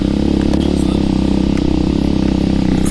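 An X-pro Storm 150 DLX motorcycle engine climbs a hill with a steady, loud, close drone and even rhythmic pulsing, plus faint wind noise and no speech.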